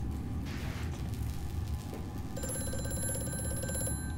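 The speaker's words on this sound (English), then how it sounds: "I'll answer the phone first, because apparently the phone calls can stop" An old telephone rings in the horror game Amnesia: A Machine for Pigs, with a mechanical bell trill over a low droning ambience and whirring machinery.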